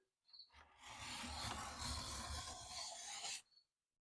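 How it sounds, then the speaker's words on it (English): A card scraper drags across tiger-figured wood in one long, steady, rasping stroke, close and even, with a faint squeak at its start and end. "that's another way to deal with a cranky wood, is with a card scraper or cabinet scraper."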